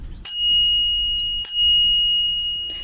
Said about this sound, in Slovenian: potem imam tudi zvonček, tak neupadljiv.